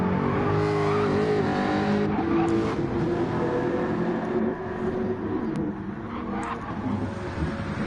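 Race cars roar loudly and continuously through the second and final race at Deep Forest in a PS4 racing game, engines revving and shifting pitch as cars sweep past, with no gaps in the sound.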